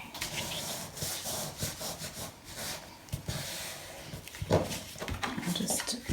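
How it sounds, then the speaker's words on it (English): A glued piece in suitcase construction is burnished by hand, with close, uneven rubbing and scraping strokes and a few sharper scuffs and taps, with faint talk over it. "I'll just burnish that."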